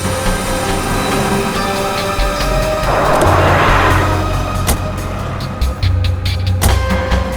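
Car sound in a forest setting: a steady engine rumble with road and rail-like noise throughout, a louder passing swell in the middle and brief clicks, close and continuous with no talk.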